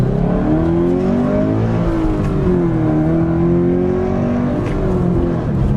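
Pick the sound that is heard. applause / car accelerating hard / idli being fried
car accelerating hard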